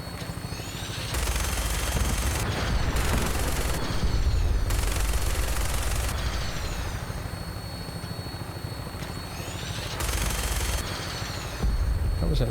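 Fallout 4 vertibird gunship in flight with bursts of rapid machine-gun fire and explosive blasts over a constant rotor and engine drone, loud and dense, with brief gaps between salvos.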